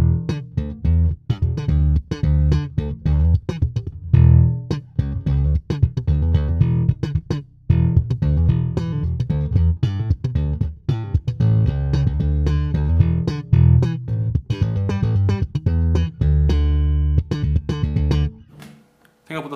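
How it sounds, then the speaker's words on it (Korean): A Sandberg Forty Eight five-string bass is played slap style, with loud, punchy, percussive thumps and pops in a busy groove, close and alone, fading out at the end. "슬랩 사운드 들어보도록 하겠습니다."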